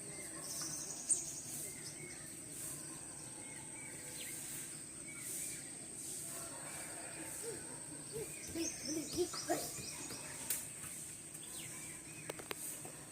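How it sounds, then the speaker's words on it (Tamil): Birds calling in the morning among trees near a house in a natural setting, hooting and chirping calls scattered over a steady insect and cricket drone, mostly moderate distance with a busier cluster of calls in the second half. "பறவைகள் பறந்து கொண்டிருக்கின்றன காலை வேளையில் தங்களுக்கு தேவையான இறையை தேடி பறக்கின்றன"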